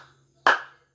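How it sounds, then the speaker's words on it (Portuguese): A single sharp, close hand clap in a quiet indoor setting, struck once as a class is invited to clap along to an English lesson song, with a brief ringing tail. "vamos lá comigo, nas palmas, pode ser?"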